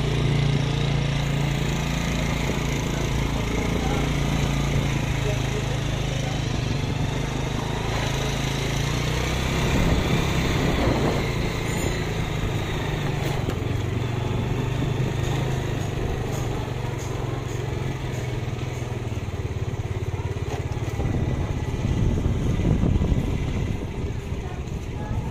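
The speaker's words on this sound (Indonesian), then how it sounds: "Ini dengan motor menuju ke sekolah di SMP 8." A motorcycle ridden toward a junior high school in Lonthoir, Banda, a continuous close engine drone with wind buffeting, swelling slightly at moments, and occasional speech.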